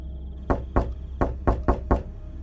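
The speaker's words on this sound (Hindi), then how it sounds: "तभी दरवाजे पर जोर से खटखटाहट हुई" Six loud, sharp knocks strike a door in an uneven rhythm of close single raps, heard alone with no talking.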